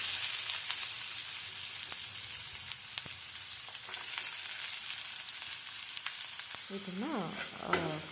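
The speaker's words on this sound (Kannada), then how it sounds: "ಲೋ ಫ್ಲೇಮಲ್ಲಿಟ್ಟು ಇದನ್ನು ಸ್ವಲ್ಪ ಫ್ರೈ ಮಾಡ್ಕೊಳ್ಳಿ" Onions, green chilies and cumin fry in a pan over low flame, a steady close sizzle with scattered crackles and pops, a few brief stirring scrapes near the end.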